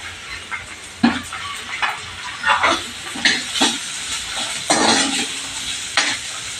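Finely chopped onion lands on garlic already browned in hot oil and fries with a constant hiss. Irregular spatula strokes scrape and clatter close by, several loud ones spaced through, and no one talks.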